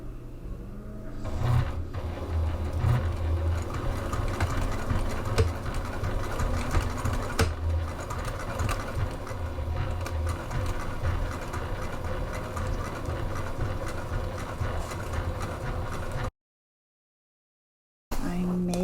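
A sewing machine stitches the exterior of a Sewspire City Slicker II raincoat, running in a steady, close, mechanical whir with a brief pause for backstitching and a short silent gap near the end.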